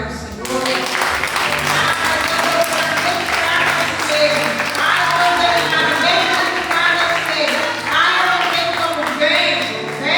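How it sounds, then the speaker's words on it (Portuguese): A church congregation claps steadily and warmly through the whole stretch during a worship service, dense sustained applause with voices and faint music underneath. "Você pode aplaudir ao Senhor."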